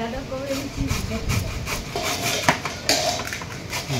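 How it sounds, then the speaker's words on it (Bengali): Carrots and beetroot being grated for a vegetable chop: rough, repeated rasping strokes close by, with a few sharper scrapes and clinks between them. "বিট গাজর গ্রেড করা হচ্ছে"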